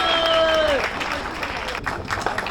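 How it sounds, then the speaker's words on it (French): A crowd at a road race applauds the runners, with a voice trailing off at the start before steady clapping and some scattered louder claps take over. "Salve d'applaudissements pour les 3 garçons de Pierrefitte Multiathlon"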